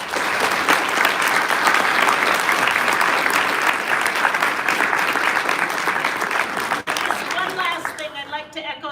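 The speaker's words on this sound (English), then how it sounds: "Let's give everyone a round of applause." Audience applause for award winners at a student achievement awards ceremony, sustained clapping from a full hall that holds steady, then thins out near the end as a voice begins speaking.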